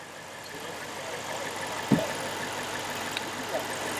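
A car engine idles steadily with the hood raised at an outdoor summer car meet and barbecue, a continuous moderate hum with a couple of brief knocks and clatters, and a voice speaks briefly.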